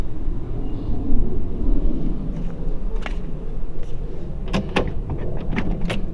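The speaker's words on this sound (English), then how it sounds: "Open the door again." 1937 Ford convertible with a flathead V8: its door opens and shuts in a few sharp metallic clunks and latch clicks near the end, over a low outdoor rumble.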